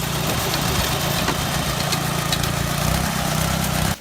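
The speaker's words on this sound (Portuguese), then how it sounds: "Com a ajuda de sua máquina estranha, parecida com um cortador de grama," A beach sand-cleaning machine, similar to a lawn mower, runs with a steady engine drone at close range for about four seconds before cutting away, with no talk.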